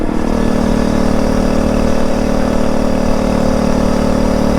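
A Phatmoto Rover all-terrain minibike engine drones loud and close during a test ride, a steady buzzing hum with little change in pitch and no voices.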